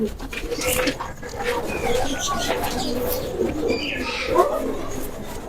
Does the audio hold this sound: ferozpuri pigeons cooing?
yes